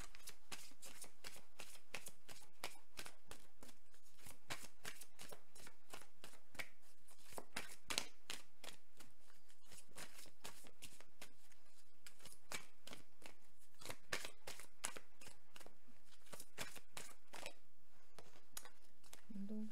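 A tarot deck is shuffled continuously at close range, a fast rapid riffle of slapping card edges running nearly unbroken, faint and steady throughout, without speech.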